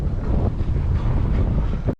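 Strong wind buffets the microphone outdoors on a trail, a loud, continuous low roar with gusty swells and no voices.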